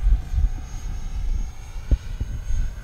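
An Arrows RC L-39 Albatros 50mm electric ducted-fan model jet on 4S power flies past, a moderate whirring hum that swells and fades slightly over a few seconds.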